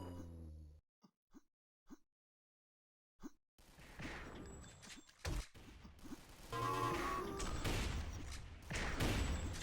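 Missed shots in the eCTF video game: a few sharp isolated cracks spaced apart after a quiet start, then a dense, continuous burst of crackling gunfire and impacts that builds and stays loud to the end.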